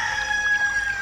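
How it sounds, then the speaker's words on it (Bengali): A rooster crows once in a clear, sustained call, fairly close and alone. "একবার একটা মোরগের ডাক শুনলাম"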